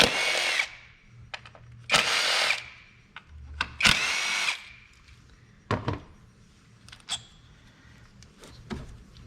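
A power drill removes the 8mm coil pack bolts on a 2000 Jaguar S-Type, with three loud whirring bursts followed by shorter, fainter spins and clicks of the tool.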